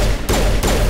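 Loud, dense automatic gunfire from Mass Effect Legendary Edition, two close bursts split by brief gaps, dominating with no talk.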